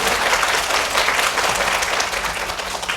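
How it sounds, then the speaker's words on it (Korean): An audience at a parenting lecture claps continuously for a few seconds, a dense, even round of applause with no talking. "박수 한번 쳐주세요"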